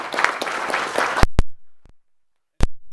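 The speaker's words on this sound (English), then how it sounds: "let's give her a round of applause" An audience applauds a woman at a leadership event, a short burst of dense clapping that cuts off abruptly into near silence broken by a few sharp knocks.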